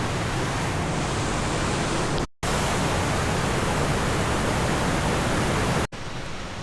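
Steady, loud rush of water flowing along a large irrigation river in Cugenang, a dense continuous roar filling the whole clip with two brief cut-outs.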